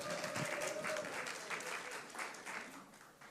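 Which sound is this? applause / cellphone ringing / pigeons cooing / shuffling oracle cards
applause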